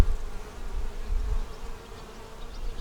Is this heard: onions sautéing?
no